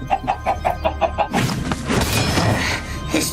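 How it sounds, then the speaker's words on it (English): Cartoon chickens cluck in a Minecraft animation, a rapid series of about a dozen short, evenly spaced clucks, then a busier burst of clattering, squawky sound fills the rest. "it'd be better for the chicken to just cluck like the normal Maka chicken"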